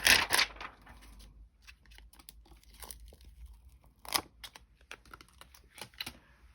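A rubber stamp is peeled off its backing sheet: a burst of crinkly tearing at the start, then scattered small plasticky clicks and crackles, close and quiet with no voices.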